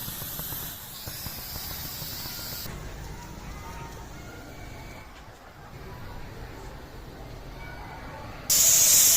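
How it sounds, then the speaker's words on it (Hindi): Broad hissing rush of steam escaping under pressure from a pressure cooker cooking beef, steady at first, then a louder, brighter burst of hiss near the end. "तो हमारे कुकर है जी कुर कुर कुर कुर से हवा देना जो है ना वो स्टार्ट कर लिया है।"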